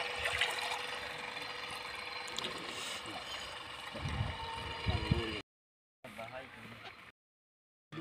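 Water trickles and splashes steadily from a small battery-powered pump in a rural village setting, with a continuous flowing wash broken by brief gaps near the end.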